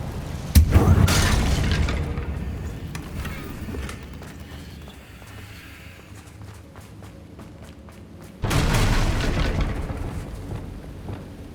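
Bombarda and Confringo spell blasts in Hogwarts Legacy: a loud burst near the start fading into a rumbling decay, a quieter stretch of crackling debris, then a second heavy blast late on.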